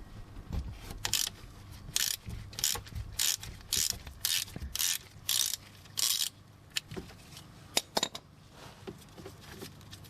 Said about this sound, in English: Then we'll go ahead and loosen up this drain plug here.